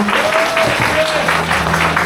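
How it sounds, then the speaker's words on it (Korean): Steady applause from the audience at a sports team founding ceremony, a continuous even patter of many hands with a voice briefly audible over it. "함께해 주셔서 감사하다는 뜻으로 큰 박수 부탁드리겠습니다."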